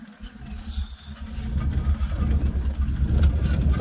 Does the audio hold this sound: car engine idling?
yes